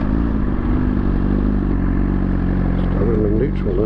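A Suzuki motorcycle rumbles along on an open road, its engine steady and close, while a rider's voice seems to talk over the continuous mechanical drone.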